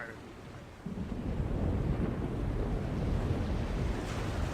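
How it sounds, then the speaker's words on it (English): A sudden storm at sea in The Longest Journey adventure game, with a steady roar of wind and crashing waves surging in after a quieter opening and continuing loud to the end, low rumbles like thunder mixed in. "by the mercy of Jal, it's a chaos storm"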